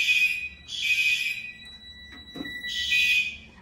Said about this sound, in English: I do not wish to proceed with that alarm going off while resetting this pulsation